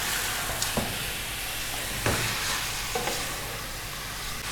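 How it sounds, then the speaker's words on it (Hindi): Meat browning with onions in a pot for Shinwari Kabuli pulao, giving a steady close sizzle and crackle with a few louder stirring scrapes spread through the stretch, and no talking. "गोश्त को हमने प्याज के साथ अच्छी तरह से भून लेना है।"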